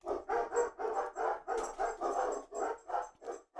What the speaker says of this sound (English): these dogs are crazy.